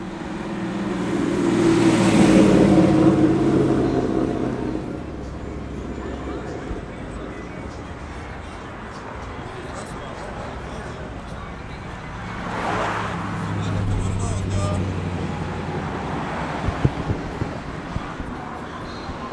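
Lowriders and other cars roll past at Compton's Sunday Funday in California, with engine rumbles that rise and fade as each one passes, the loudest early on, over a busy background of crowd noise.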